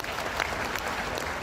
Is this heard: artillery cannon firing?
no